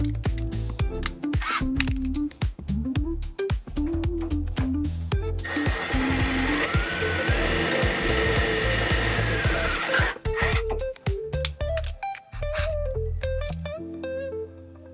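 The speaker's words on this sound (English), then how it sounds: "I'm going to switch to the next drill bit" A power drill whirs steadily through progressively larger drill bits during an undercarriage water tank install, under a busy mix of clicks, ratcheting and clattering, then winds down with scattered tapping.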